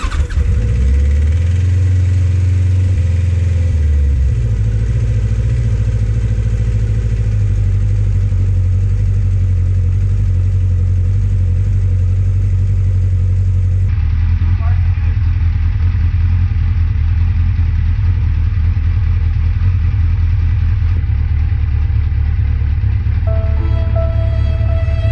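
A Kawasaki Concours motorcycle engine runs close by after starting without choke, idling steadily at a loud level and shifting its pitch partway through.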